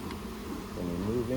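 Honey bees buzz in a low, steady drone while a hive is opened for inspection. The hum is faint and brief, and it rises slightly near the end.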